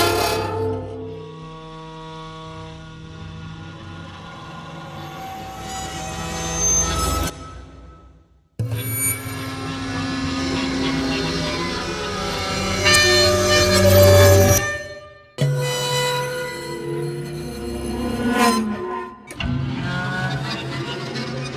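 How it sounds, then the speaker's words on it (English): Cinematic friction effects of tormented metal, scratched and bowed, ring out as tonal groans and screeches in several separate passages with brief silences between them. There is no talking. "This one's cinematic scratches, bowed elements."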